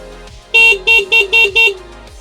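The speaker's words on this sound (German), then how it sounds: "und nicht zuletzt die Hupe" Five short electronic horn beeps from a Pride Kolja Speed 4 electric mobility scooter in quick, even succession, fairly loud and close, with a low motor hum underneath.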